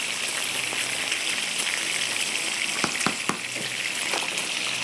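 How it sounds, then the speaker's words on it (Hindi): Fish sizzling steadily in hot oil in a pan for a curry, a dense close crackle throughout with a few sharper pops and scraping stirs near the end. "तो जब तक मछली फ्राई हो रही है"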